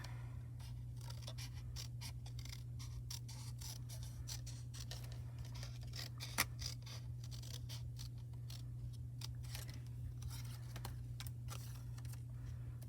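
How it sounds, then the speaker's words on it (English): Scissors snip through paper in fussy, fine cuts while the sheet is turned, giving a close, quiet run of irregular crisp clicks and scrapes over a low steady hum. "just barely have your scissor open there and then turn the paper. And as you turn the paper, the scissors will cut through that for you."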